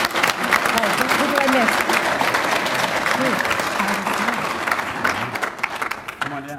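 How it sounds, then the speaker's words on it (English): A crowd at a veterans' awards and promotion dinner applauds steadily and loudly for several seconds while someone speaks over the clapping. "Round of applause for everybody."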